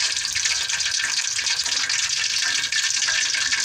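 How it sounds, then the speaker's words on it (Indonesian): Food fries in hot homemade palm oil, giving a steady, dense, close sizzle and crackle that runs unbroken throughout with no voices. "Ini sudah panas minyaknya kawan, kita langsung menggoreng seperti ini."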